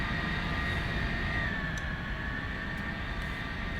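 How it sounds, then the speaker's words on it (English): Three jet engines of a Lockheed Tristar spool up during startup in the Prepar3D flight simulator, a continuous loud whine with steady tonal hum over low rumble, heard without talk. "we are seeing all three of our engines coming alive here"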